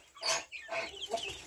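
Free-range chicks and chickens cluck close by in a short burst of several squawky, rising calls, heard clearly and without talking.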